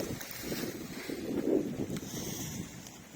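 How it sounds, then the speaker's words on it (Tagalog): Gusty wind on a mountaintop buffets and rumbles across the microphone, swelling and easing over a few seconds, with no other clear sounds. "Lakas pa ng hangin."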